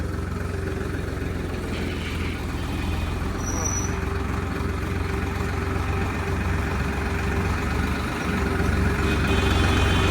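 A tractor engine idles parked at a shop in Mullanpur, a steady, close, low rumble that runs without a break throughout.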